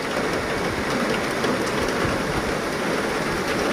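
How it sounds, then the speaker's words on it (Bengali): Heavy rain falling in very big drops makes a dense, continuous hiss and patter, loud and even throughout, with no voices. "ও খুব বড় বড় ফোঁটার বৃষ্টি"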